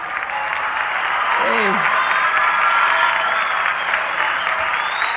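A crowd at a 1983 concert applauds and cheers in a loud, sustained wash, with a voice briefly calling out over it.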